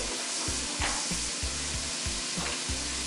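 Onions and a little minced garlic sizzle in a skillet, a continuous hiss broken by regular low thumps and scrapes of stirring.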